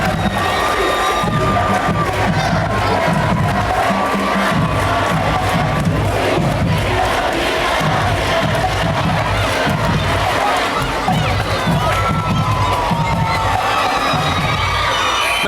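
Packed gym at a Cathedral Prep versus McDowell high school boys basketball game, with loud, sustained crowd cheering, shouting and chanting from cheerleaders and fans, rising and falling in rhythmic bursts over a dense roar.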